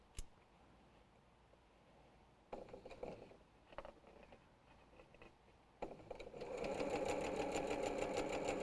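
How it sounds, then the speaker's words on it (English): Sewing machine sewing quilt fabric, starting as a faint low hum with brief mechanical bursts, then running into a loud, steady close whir of stitching for the last few seconds. "letting the machine feed the fabric"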